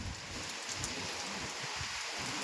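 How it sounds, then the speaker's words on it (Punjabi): Steady heavy rain pours down in Haryana in a continuous hiss, with no other sounds standing out. "ਬਾਰਿਸ਼ ਅੱਜ ਪੈਣ ਲੱਪੀ"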